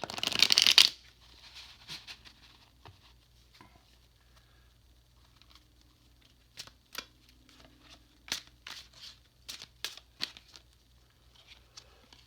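New tarot-style cards are shuffled close by: a loud riffle at the start, then quieter handling, followed by a series of crisp shuffling bursts and taps later on, over a low steady hum.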